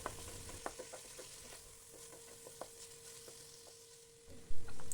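Tomatoes and ginger garlic paste sauté in a pan for fish biryani, a steady soft sizzle broken by light, irregular stirring clicks, with a louder clatter of the pan near the end.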